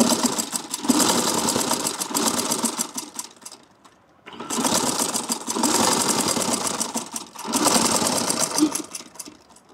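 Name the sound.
sewing machine stitching lined dupatta fabric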